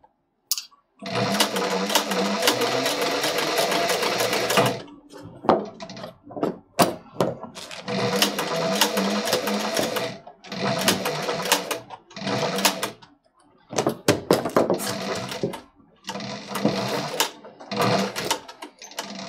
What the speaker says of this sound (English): since we're sewing through some thicker leather